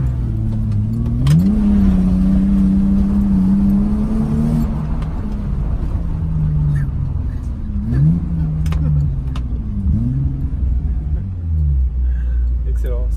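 A car drifting through Paris streets on 255-width rear tyres, its engine revving in rising and falling sweeps with a steady low rumble throughout, loud and close, while people talk over it.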